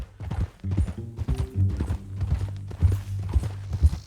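Rhythmic hoof clip-clops of a horse, steady and fairly close, with a low harmonic drone running underneath.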